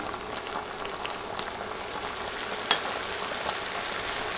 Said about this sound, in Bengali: সবজিগুলো দেড় দুই মিনিট ভেজে